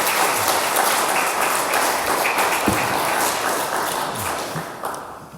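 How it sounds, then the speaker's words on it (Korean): A church congregation at a Korean Presbyterian service applauds its choir, a dense, steady wash of many hands clapping at close range that holds for several seconds and then begins to taper off. "우리 성가대 위에서 격려와 축하의 박수를 드리겠습니다"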